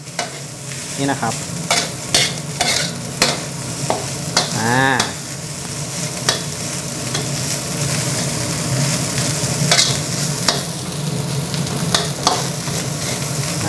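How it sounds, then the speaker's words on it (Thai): Jasmine rice is stir-fried with soy sauce in a pan over high heat, giving a loud steady sizzle punctuated by repeated sharp scraping and tapping of a spatula; someone speaks briefly. "จะผัดไฟแรงฉะนั้นมันจะมีติดกระทะบ้างนิดๆหน่อยๆนะครับ"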